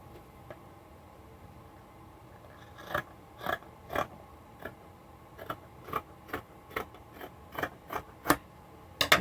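Scissors cutting through fabric for fingerless gloves, a series of quiet crisp snips coming in an uneven rhythm and speeding up toward the end.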